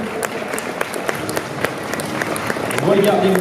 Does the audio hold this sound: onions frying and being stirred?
no